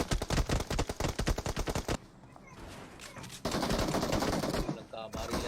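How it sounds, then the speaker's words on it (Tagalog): Shotgun and automatic gunfire in the battle royale game PUBG Mobile: a rapid run of loud, sharp shots, then a quieter pause, then a dense, sustained burst of firing. A voice speaks faintly underneath. "Nagkabarila na, nagka-shotgun na nga."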